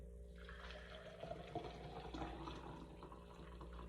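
Liquid poured into a spare NutriBullet blender cup, a soft, steady watery trickle close by that runs for a few seconds over a low background hum, with no talking.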